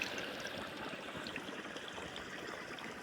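Irrigation water runs steadily through a pigeon pea field, a continuous close rushing and gurgling flow with no voices.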